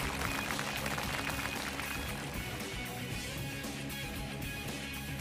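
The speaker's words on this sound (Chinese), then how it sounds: "掌声有请。" Studio audience applause on a Chinese television talent show, a dense steady wash of many hands clapping at a moderate distance, sustained throughout without a break.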